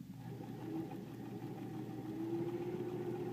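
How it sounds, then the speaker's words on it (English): Sewing machine stitching a seam across quilt pieces, a steady close mechanical hum with a faint whine rising toward the end. "I'm going to line up those raw edges, and then I'm going to sew that seam across"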